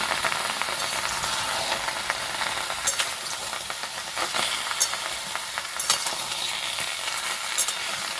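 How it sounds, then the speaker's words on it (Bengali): Chopped tomatoes and beetroot sizzle and fry in a hot wok, a dense hiss with scattered crackles and pops, close and steady, with no talking. "এখন আমি কড়াতে দিয়ে দেবো টমেটো আর বিট কাটা আছে।"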